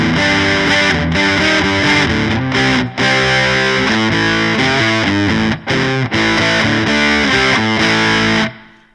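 Electric guitar played through a Super Fuzz distortion pedal, loud, thick fuzzy chords and sustained notes ringing one after another, with a few brief cut-offs and a final decay to silence.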